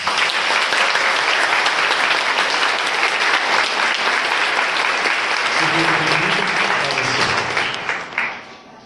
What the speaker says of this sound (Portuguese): acolhemos com a salva de palmas